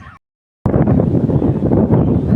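Morning wind blowing across open countryside, a steady loud broadband rush buffeting the microphone after a brief silent gap, continuing without letup.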